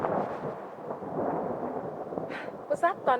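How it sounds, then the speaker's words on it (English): Low rumbling thunder rolls through the horror video game The Fear Business for about two seconds, a broad dull roar at moderate level, before a speaking voice briefly cuts in near the end. "Was that thunder?"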